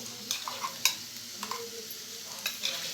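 Coriander paste sizzles softly in a pan, with a few quick scraping stirs of a spoon, quiet and close.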